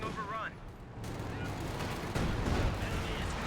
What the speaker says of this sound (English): It's the major artillery as he retreats away.